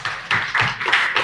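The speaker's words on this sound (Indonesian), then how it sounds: "tepuk tangan buat temanmu nih" Classroom applause for a classmate, a short, lively burst of hand claps from several students, close and loud, with no voices over it.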